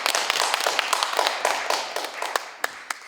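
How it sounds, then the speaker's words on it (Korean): Indoor audience at a city culture project briefing applauds, a dense round of handclaps that thins out toward the end into a few scattered, sharper claps. "우리가 이 자리를 빌어서 마지막으로 한번 박수를 한번 이렇게 보내 수고했다고"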